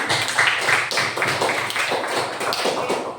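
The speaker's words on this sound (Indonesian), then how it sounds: "Tepuk tangan ya semua" Children clap together in a classroom at the end of student presentations, a steady run of quick, close handclaps carrying on for several seconds with a faint voice underneath.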